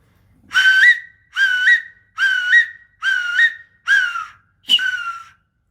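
Six evenly spaced shrill whistle blasts with a slight upward warble, mimicking a hawk's cry, close and clear with silence between.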